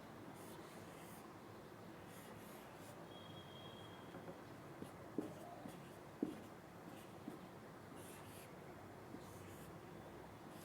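Quiet scratching of a pen or marker writing signs onto a drawing of an open dice, faint and close, with a few soft taps against a hushed background.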